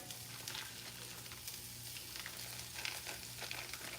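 Crumbled seitan cooks in a pan, a soft steady sizzle with faint crackles and a few light stirring knocks, quiet and without speech.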